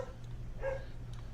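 One muffled dog bark sounds in the middle, faint and distant against a steady low background hum, with no voices.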